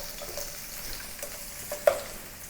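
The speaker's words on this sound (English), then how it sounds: "And I'm going to use this oil to saute the ginger and the green onion." Ginger sizzles in hot oil left over from frying fish, a steady close frying hiss with a few small pops and stirring scrapes.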